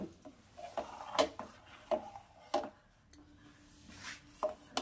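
Khoa kheer melting in a pan while being stirred constantly for a Bengali luchi payesh, giving irregular soft knocks and scrapes of a utensil against the pan, fairly quiet, with no voices.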